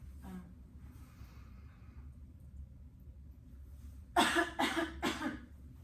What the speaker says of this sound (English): you can breathe in for 1 to 2 seconds and then cough about 2 to 3 times